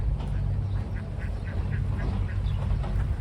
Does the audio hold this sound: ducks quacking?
yes